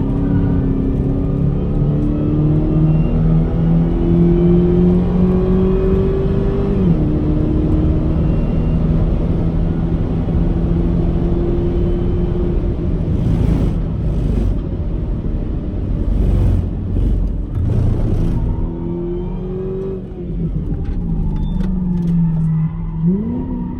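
A boosted car lapping The Bend circuit roars close and loud, its engine pitch climbing through gears and dropping at shifts, with wind buffeting throughout.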